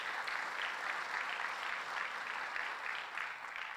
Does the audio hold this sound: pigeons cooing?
no